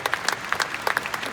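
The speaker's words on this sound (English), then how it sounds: "big round of applause for our panelists" Applause for conference panelists from a real-estate event audience: steady, fairly faint clapping from many hands, with crisp irregular claps standing out over the crowd.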